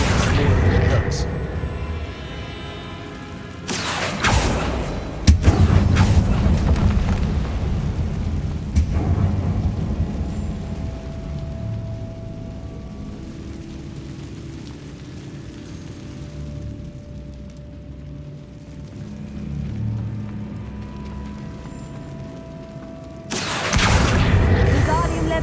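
Confringo spell blasts in a Harry Potter video game land as deep, rumbling booms with sharp bursts near the start and near the end, over a long rolling background rumble, with a voice calling out spells.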